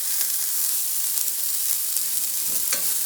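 A scramble sizzles and hisses in a Griswold cast iron pan over medium to medium-high heat, a constant close frying sound with faint scraping as it is stirred.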